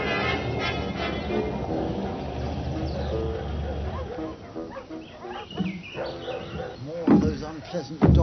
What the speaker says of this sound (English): unpleasant dogs. You must just bring out the worst in them